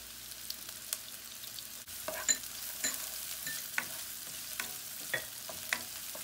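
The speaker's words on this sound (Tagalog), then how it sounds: "pag kulay brown po natin ng konti yung bawang" Garlic and onion frying in oil in a pan, with a steady low sizzle broken by repeated stirring scrapes and small clicks of the utensil, close up and fairly quiet.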